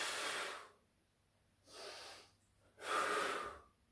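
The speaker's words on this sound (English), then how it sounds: "deep breath in" Deep breathing during a core exercise session: three breath sounds in the quiet, the first and last loud and close, the middle one softer.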